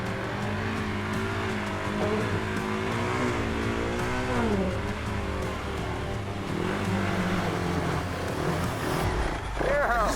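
Dirt bike engine revving hard and bogging in deep mud on a muddy mountain climb, loud and continuous with rising and falling pitch, under engine-masked talk.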